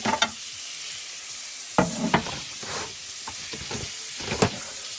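Food cooking in a pan gives off a continuous bright sizzle and hiss, with repeated sharp crackles and utensil scrapes breaking through at intervals, close and fairly loud.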